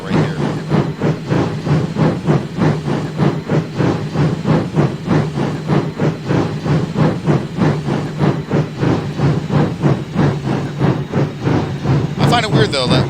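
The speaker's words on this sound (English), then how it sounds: "something about Lady wheel slipping while pulling a freight train, or just a heavy train in general" A steam locomotive in a train-simulation video game slips its wheels while pulling a heavy train, giving loud, rapid, evenly spaced exhaust chuffs over a steady rumble, with a short hiss burst near the end.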